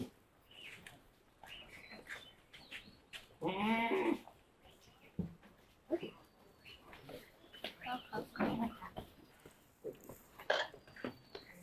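Goats bleating repeatedly while feeding on grass and leaves, with several clear calls spread across the scene and one long, strong bleat standing out early on, amid quieter rustling and farmyard noise.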